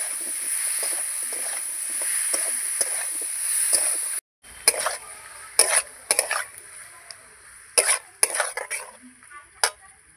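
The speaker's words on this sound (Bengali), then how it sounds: "নাড়তে নাড়তে আমের থেকে যেটুকু জল আছে বন্ধুরা সেটুকু কিন্তু আমি শুকিয়ে নেব।" Mango pieces for a sweet-sour pickle are stirred and cooked down in a pan, a steady close sizzle broken by repeated scraping strokes of the spoon, with a brief pause midway.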